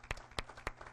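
Congregation applauding in church, a scattered burst of claps with a few sharp louder hits rather than dense sustained applause.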